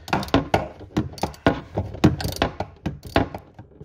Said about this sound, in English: Probably a ratchet with an extension and a, in this case, a 12mm socket.